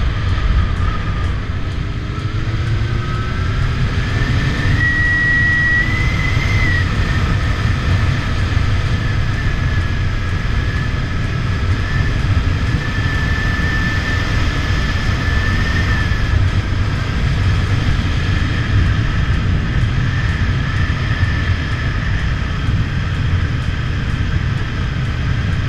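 A Honda CBF 600 motorcycle engine hums steadily while riding in sixth gear, a constant low drone under wind noise, with faint tonal whines drifting in and out.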